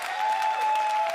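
A comedy club audience applauds in a brief, steady burst of clapping, fairly loud and even throughout, with a faint steady tone running underneath.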